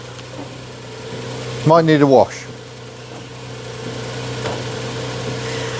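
A small barn-find car idles with a steady, low, rumbling hum that runs underneath the whole moment, and a voice speaks briefly partway through.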